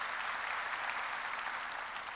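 Church congregation applause, a brief, steady wash of many hands clapping at moderate distance, with no voices over it.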